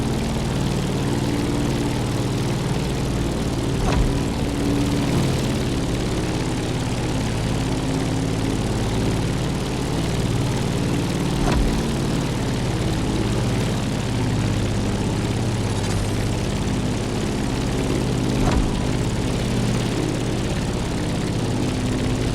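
A propeller airplane engine drones steadily while climbing in the racing game The Crew Motorfest, a loud continuous hum with layered low harmonics throughout, no voices.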